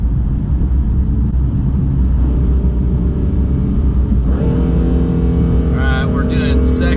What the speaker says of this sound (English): You can really feel the turbos kicking in through the RPMs.